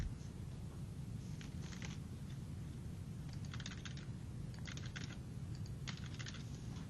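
Keystrokes on a computer keyboard while text is entered into a table in a web editor, coming in several quick bursts of clicky taps over a steady low background hum, no voices.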